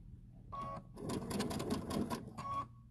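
A sewing machine runs in short bursts while stitching a curved pie crust seam a few stitches at a time with a curve ruler, its motor whirring and needle tapping close by, with brief pauses between runs.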